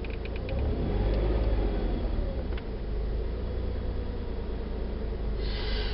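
The engine of a 2000 Chrysler Town & Country van revving under a hand-control accelerator, a steady low rumble that swells briefly and settles, close and continuous, with a few faint clicks.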